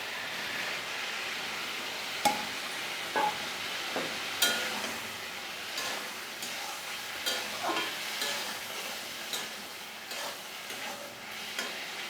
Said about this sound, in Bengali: এবার আমি মাছগুলোকে দিয়ে দেবো